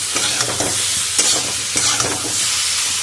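Vegetable sabzi frying in a pan, a close, steady sizzle with soft scraping and stirring strokes repeating throughout, no voices.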